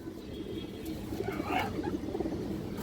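A khaki hen pigeon of a high-flying breed coos softly and low, a faint rolling murmur over a dull background hum, with no speech.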